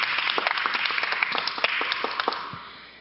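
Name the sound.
audience applause of thanks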